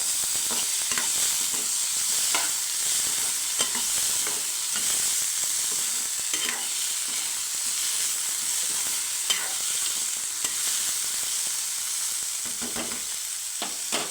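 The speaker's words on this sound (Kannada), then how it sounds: "ನಾನು ಒಂದು ಟೊಮ್ಯಾಟೋನ ಸೇರಿಸ್ಕೊಳ್ತಾ ಇದ್ದೀನಿ ಸೇರಿಸ್ಕೊಂಡ್ಬಿಟ್ಟು ಸ್ವಲ್ಪ ಬಾಡಿಸ್ಕೋಬೇಕು" Tomato sizzles steadily in a frying pan, a constant close crackle with occasional scraping stirs and no talking.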